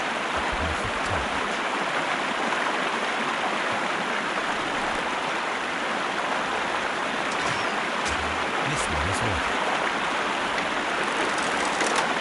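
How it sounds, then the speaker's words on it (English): Loud, steady rush of flowing water in a Sherlock Holmes crime video game, a dense continuous roar filling the scene without pause, with a voice talking briefly over it. "why is the water gotta be so damn loud?"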